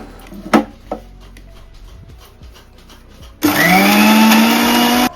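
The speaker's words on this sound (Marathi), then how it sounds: "हे सगळं भाजून घेतलेला मसाला खडे मसाला ते मिक्सरला बारीक करून घ्यायचं" A mixer grinder grinds dry-roasted whole spices with roasted gram dal. A few quiet knocks come first, then the motor bursts into a loud, steady whirring roar for nearly two seconds and cuts off.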